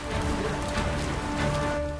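Rain falls steadily at an outdoor nighttime event, a dense continuous patter filling the scene, with a faint tonal hum underneath.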